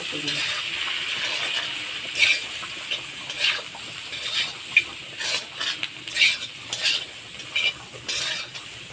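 Masala with red chili powder fries in a pan, a soft sizzle broken by repeated stirring scrapes and spoon taps in an irregular rhythm, close up and moderately quiet.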